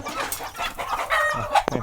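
Chickens chasing and fighting each other at a rural home in Laos, with loud, close clucking and squawking in agitated bursts and a sharp cry near the end.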